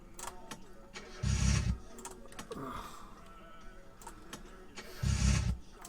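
Car engine in My Summer Car cranking and briefly catching, with two short low rumbling bursts separated by clicks and rattles, the second burst near the end, loud and close.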